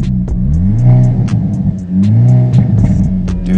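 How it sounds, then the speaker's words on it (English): Hyundai Elantra N exhaust in N mode, revving loudly up and down in two rising surges with sharp crackling pops scattered through, close and dominating, no talking. "And then just listen to this exhaust."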